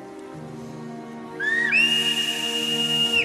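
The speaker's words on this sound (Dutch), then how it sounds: "Maar waarom fluit je nu dan?" Someone whistles a long, shrill, steady note that rises briefly before settling and holding for over a second, loud over a low humming background with no talk.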